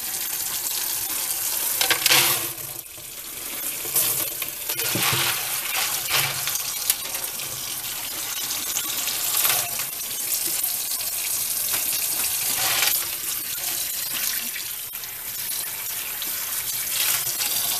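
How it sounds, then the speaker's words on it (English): A tap runs steadily into a sink while dry lima beans are washed and stirred, a loud continuous gush with occasional clatters and knocks of beans and hands in the water, close up and without talk. "All you're going to do is just wash them."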